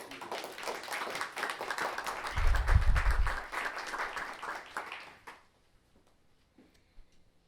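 Audience applause at a moot court showcase, a room full of steady clapping with a few louder thumps mid-way, fading out after about five seconds into near silence.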